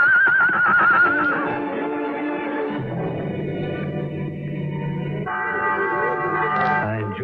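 A horse neighs in a radio drama, a loud high whinny at the start followed by snorting, with a low musical score running underneath and rising again near the end.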